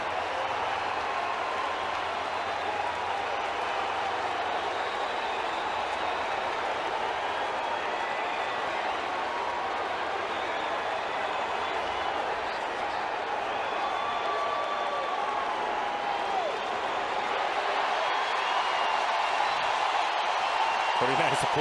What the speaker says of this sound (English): Pretty nice applause for him